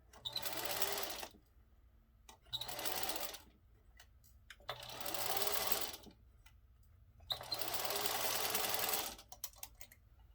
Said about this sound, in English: I placed it in my sewing machine with the zipper foot and just stitched it on.